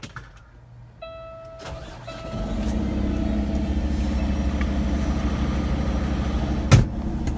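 A custom Peterbilt 389 semi truck's engine cranks over and fires up, settling into a loud, steady diesel rumble that fills the rest of the clip, with a brief knock near the end.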